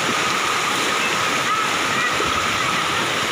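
A river diverted near Batseri village in the mountains rushes in a dense, steady roar that fills the whole stretch, close and loud.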